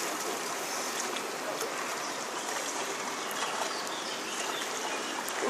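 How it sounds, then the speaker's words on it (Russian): Mountain stream water in Kotor, Montenegro rushes and burbles steadily nearby, a continuous bright splashing with no voices. "Горная водичка."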